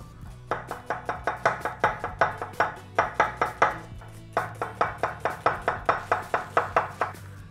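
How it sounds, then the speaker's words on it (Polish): A knife slices onions thinly on a cutting board in two quick runs of steady, evenly spaced chops, each a crisp knock, close and loud with no talking. "Cebulę będę kroił w piórka."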